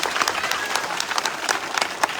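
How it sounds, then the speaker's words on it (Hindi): Dense applause from a crowd, many hands clapping steadily and fairly loud, with faint voices mixed in. "इस बहन के लिए तालियां बजाइए"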